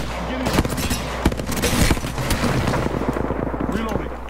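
Rapid automatic gunfire from the shooter game Apex Legends rattles in dense bursts with scattered louder single shots, close and continuous, with someone speaking Portuguese over the shooting.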